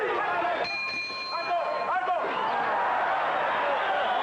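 Boxing ring bell struck to end round nine of a Michael Nunn versus Merqui Sosa fight, a few bright ringing strikes early on over loud crowd roar and a commentator's voice.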